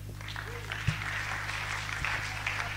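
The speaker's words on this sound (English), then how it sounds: "keep clapping." Audience applause at the Africa's Future Empowerment Conference, FUNAAB Edition: a steady, moderate wash of clapping throughout, sitting over a low electrical hum from the hall's sound system.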